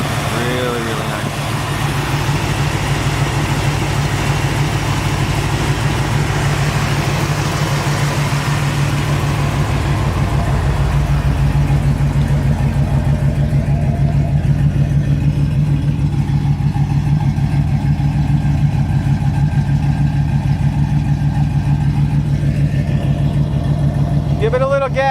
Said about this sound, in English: Give it a little gas, Mike.